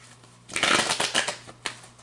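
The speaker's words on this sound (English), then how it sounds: "I don't want to shuffle anymore." Tarot cards being shuffled by hand in a quiet room, a burst of crisp riffling and flapping followed by a few lighter shuffles and a final sharp card tap, close to the microphone.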